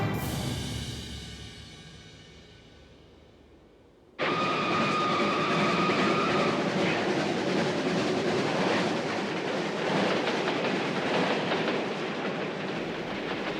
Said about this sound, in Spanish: unos trenes abarrotados atravesaban el territorio de la URSS